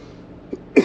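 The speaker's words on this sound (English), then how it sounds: "Sorry for all the coughing and everything." Two short coughs from one person indoors, a soft one followed by a louder, harsher one, close to the mic with no talking.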